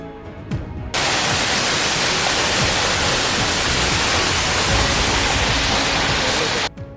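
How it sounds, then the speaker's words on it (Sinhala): Twin waterfalls plunging side by side about 45 metres into a pool at Jodu Ella, in a Sri Lankan waterfall region, roaring as a dense, steady wash of noise that swells in after a second and holds loud until it cuts off. "මෙතන දියැලි ජෝඩුවක්. එහෙමත් නැතිනම් එක ළඟින්ම වැටෙන දියැලි දෙකක්."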